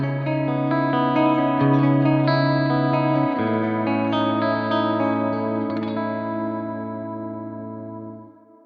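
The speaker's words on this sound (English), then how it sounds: "First, let's hear the clean sound." A clean electric guitar tone run through CorOS 3.0.0 effects rings out in sustained chords and single notes, with a slight chorus shimmer, then decays and fades toward the end.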